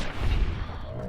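A single gunshot fires in Fallout: New Vegas, a loud low boom at the start that rolls off into a fading rumble with a faint tail.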